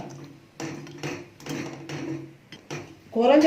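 A ladle knocks and scrapes through gulab jamun soaking in sugar syrup in a pot, giving a handful of soft, close clinks and scrapes in short bursts.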